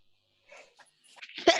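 One sharp sneeze bursts out near the end, preceded by a few faint snuffling breaths.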